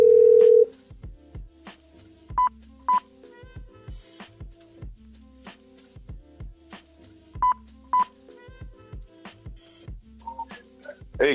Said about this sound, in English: So 520, I'm calling you right now.